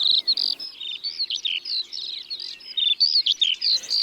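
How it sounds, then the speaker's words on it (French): Many birds sing and chirp continuously in a 120-hectare nature area, the Plaines Villes at Ploufragan in Côtes d'Armor, with overlapping high twittering phrases close by and no talk. "Plus de 40 espèces d'oiseaux sont répertoriées ici"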